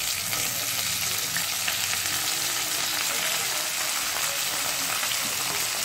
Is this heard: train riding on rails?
no